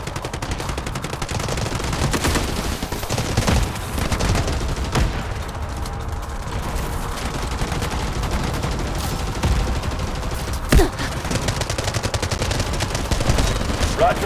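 Rapid gunfire and artillery blasts pound on without a break through a battlefield in the mobile shooter Delta Force Mobile, a dense, loud roar of shots and explosions with occasional faint radio voices beneath.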